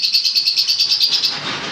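Caged pet birds at a bird shop, including lutino Fischer's lovebirds, chirp in a rapid, steady series of bright, high-pitched calls. The chirping is close and fairly loud and then fades into a softer twitter, with no talking.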